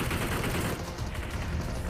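Gunfire in the mobile battle royale game BGMI crackles in a rapid burst, busy and moderately loud with no speech over it.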